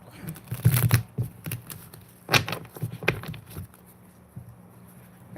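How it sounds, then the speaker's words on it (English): Tarot cards are shuffled at close range in several quick riffling bursts separated by brief pauses, then fall quieter. "I'll do one last shuffle for you then."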